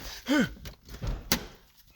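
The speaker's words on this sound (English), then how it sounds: "Now, to look at the second thing, you actually have to open the door." A car door on a 2000 Toyota Celica opens with a quick latch clunk and creak, followed by a second sharp thunk, close and fairly quiet.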